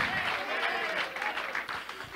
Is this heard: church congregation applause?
yes